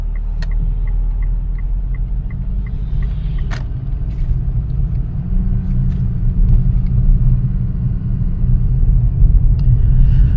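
A 2014 Mitsubishi Outlander with a CVT drives steadily on the road, its low engine and road rumble constant and close from inside the cabin, with a few faint clicks and no talking.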